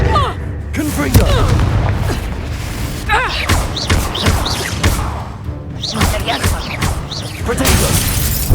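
Confringo spell blasts in Hogwarts Legacy, a run of booming, crashing impacts with shattering debris over dense game music and effects, loud and close, while a voice talks over the action.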